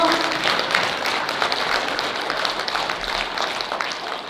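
An audience at a Sakhalin night event gives a second round of applause, a steady, moderately loud patter of many hands clapping together with only faint background voices.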